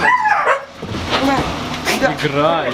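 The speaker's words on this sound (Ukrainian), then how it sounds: "Это большая собака" A big dog barks and yips in short bursts close by at an animal shelter, mixed with a person talking over it.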